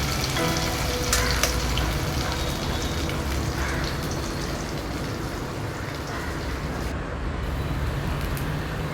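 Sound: okra frying in oil

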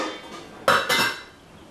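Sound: lid placed on saucepan for boiling pasta

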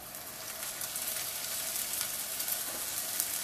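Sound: scallion egg flatbread sizzling in a pan

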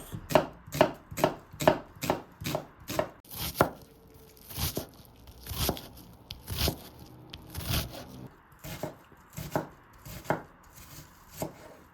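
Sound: chopping onion into small cubes

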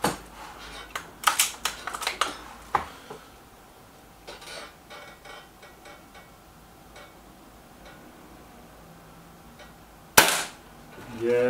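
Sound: Gamo Boxer air rifle shot hitting target

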